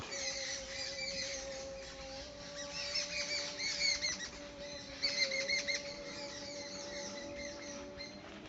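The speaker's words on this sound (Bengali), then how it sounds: "এই যে এখানে এই যে পাখির কিচিমিচি শব্দ" Small birds chirp and twitter repeatedly beside a tea garden at a quiet resort, with bursts of busier calling over a steady high drone and soft background hum.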